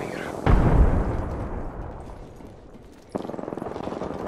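Shuriken grenades go off in Apex Legends: a loud, close burst followed by a rumbling decay, then a second sharp blast that settles into a rapid, steady pulsing crackle.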